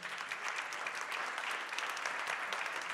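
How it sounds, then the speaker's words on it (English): Steady applause from a conference audience after a panel session, many hands clapping together in a dense, continuous patter that holds at an even level throughout. "I think that deserves a round of applause for the first session"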